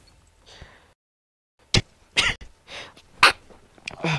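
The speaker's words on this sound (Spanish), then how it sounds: "voy a estornudar" A single person's sneeze bursts out sharply, followed by a few short breathy sounds close up, indoors during a mobile Call of Duty session.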